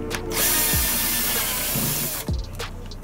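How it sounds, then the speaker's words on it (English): A power drill bores a hole into a plastic bucket in one sustained, close, whining burst that lasts about a second and a half, with brief clicks and handling noises before and after. "after you do that, you want to drill a hole"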